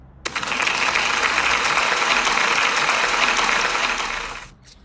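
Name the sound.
applause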